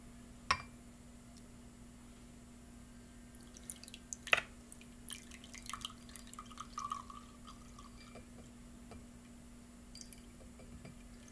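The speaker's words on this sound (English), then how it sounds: "Let's pour it up." Fresh-squeezed orange juice from a single orange pouring into a glass: a few quiet drips and soft splashes, faint and sparse against low background hum, with no talking.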